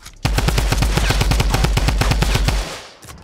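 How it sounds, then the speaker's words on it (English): Rapid automatic gunfire in Fortnite Battle Royale aimed at a launch pad, a loud, fast, even burst of shots lasting over two seconds before cutting off into a brief tail. "There's a launch pad, I'm gonna shoot it."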